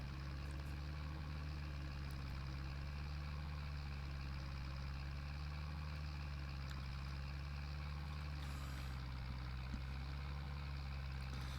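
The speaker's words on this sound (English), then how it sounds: "Yeah, I do like this little tractor." Small tractor engine idling in Farming Simulator 22, a steady low drone and hum that holds evenly throughout, fairly quiet with no talking.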